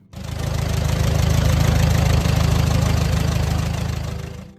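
A vintage Case VAC tractor engine idles steadily close by, a loud, low, even chugging with a rapid regular knock that holds through the whole stretch without a break.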